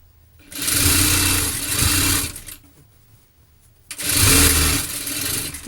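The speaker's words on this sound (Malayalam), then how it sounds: "അതിന് ശേഷം നമുക്കതിൻ്റെ അരികിലൂടെ എൻ്റെ വരെ സ്റ്റിച്ച് ചെയ്തെടുക്കാം" A sewing machine stitches along the edge of a cloth piece for a model top, running in two loud, steady bursts of about two seconds each with a short pause between them.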